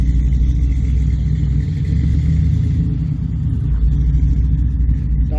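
A car's engine rumbles loudly and steadily up close as it drives around a yard, with low revving and no talk.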